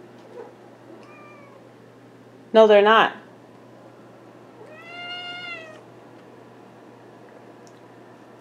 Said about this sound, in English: Y'all can keep meowing until the cows come home